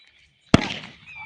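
A Diwali firecracker bomb goes off once with a single sharp, loud bang, followed by about half a second of crackling debris and rumbling echo that fades away.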